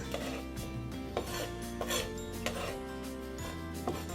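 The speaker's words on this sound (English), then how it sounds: "We're going to put that on these fresh herbs. Okay, let's mix this in." Olive oil is mixed into fresh herbs on a cutting board, soft close rubbing and scraping with light tapping knocks in an uneven rhythm, faint and without talk.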